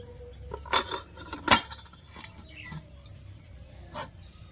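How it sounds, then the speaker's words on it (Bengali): A metal plate is set onto a stand inside a pot used for stovetop biscuit baking, giving a few quiet metallic clinks and knocks over a low background rumble, with the sharpest clinks near the start. "এবার আমি স্ট্যান্ডটা দিয়ে থালাটা বসিয়ে দিচ্ছি"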